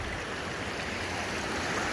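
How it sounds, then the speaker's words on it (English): Water rushes through a small channel below a hillside by a lake, a continuous close gurgling flow with no voices. "the water runs over here."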